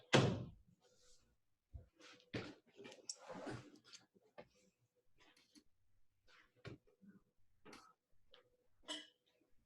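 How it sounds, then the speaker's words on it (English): A door is pushed shut indoors, giving a few soft thunks and clicks amid scattered small handling noises, faint and close with quiet gaps between sounds. "I'm gonna close my door."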